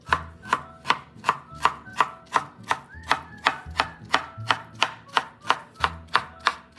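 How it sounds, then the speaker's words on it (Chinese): A knife chops soaked, squeezed Hakka preserved mustard greens on a board, about twenty sharp, evenly spaced strikes at a brisk, steady pace, close and clear with no talking. "挤干水分后再切细。"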